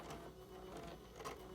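A 1994 Apple StyleWriter inkjet printer prints a document, giving a faint, steady mechanical whir with soft rhythmic clicks and carriage movement, heard close and alone.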